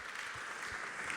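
Applause from a gala audience at a sports-and-peace forum in Monaco, a steady wash of clapping held at an even level for just over a second with no voices over it.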